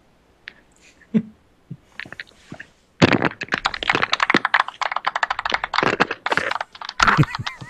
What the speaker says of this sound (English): I think it's the old PS2 keyboard